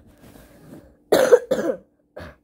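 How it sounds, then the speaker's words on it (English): A person coughs three times, two close together and a weaker one after a short pause, preceded by faint background murmur. "I'm actually coughing."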